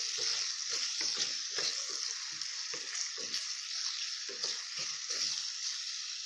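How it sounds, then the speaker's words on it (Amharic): Chickpea fish stew (shiro-style Ethiopian fasting alicha wet) sizzles steadily in a pan while a spoon stirs and scrapes it in repeated, uneven strokes, close and continuous with no talking. "አሁን ይሄን አማስዬ ከልሰዋለሁ።"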